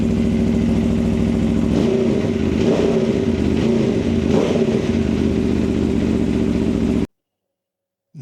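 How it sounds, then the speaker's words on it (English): An Aprilia Tuono V4 1100 Factory motorcycle's V4 engine runs loud and close, its steady idle rising into several throaty revs before cutting off abruptly. "That V4 engine, awesome."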